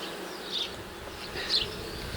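Steady buzzing from many honeybees at an alpine hive, shaken from a removed frame, close and continuous, with a couple of brief louder swells as individuals pass near.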